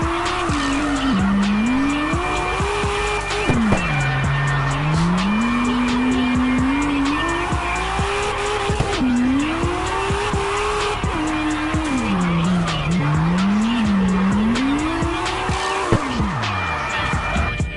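Drift car in the CarX racing video game, tires squealing continuously as the engine pitch climbs and falls through repeated slides, loud and close over a dense background of music.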